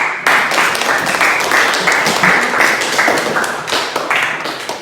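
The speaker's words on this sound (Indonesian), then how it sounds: "Ya, berikan aplaus dulu" A classroom of high school students claps together in a burst of applause, loud and close, the rapid claps sustained for several seconds before tapering slightly.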